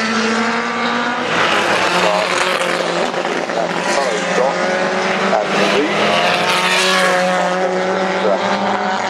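A Maserati racing car at the Goodwood circuit roars loudly and close by with a strong, rising engine note that sweeps through the clip, while a commentator talks over it.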